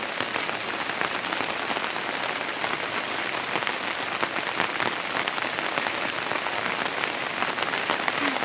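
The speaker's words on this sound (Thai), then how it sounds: "ได้เก็บภาพบรรยากาศฝนตกมาฝากทุกคนค่ะ นี่ก็ตกเป็นชั่วโมงแล้วนะคะ ยังไม่หยุดเลยค่ะ" Steady, heavy rain pattering on a surface at a house near the sea in Sattahip, Thailand, a dense constant hiss that doesn't let up.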